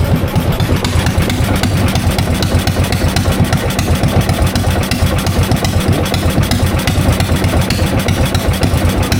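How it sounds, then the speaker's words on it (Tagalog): Boat engine straining as it runs, a loud, close, continuous low chugging with rapid rhythmic pulses that hold steady throughout, with no voices. "Nagpupumiglas yung makina mga kaspraki."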